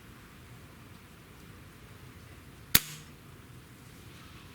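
A single sharp click as the trigger of an Air Arms S500 air rifle releases against a Lyman trigger gauge, one brief snap rising out of faint background hiss in an otherwise quiet room.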